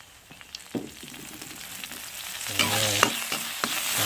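June beetles roasting in a little vegetable oil in a pan over high heat, a crackling sizzle that grows louder and busier, with scattered stirring scrapes and taps of the utensil.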